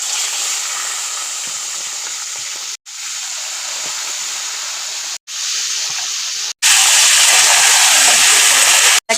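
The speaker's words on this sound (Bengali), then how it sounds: "যেই তেলটা রয়েছে সেই তেলের মধ্যে এখন আমি চিকেনগুলোকে ভেজে নেব" Chicken pieces frying in hot oil in a home kitchen give a steady, loud sizzle and hiss throughout, briefly cut off several times, then swelling louder toward the end.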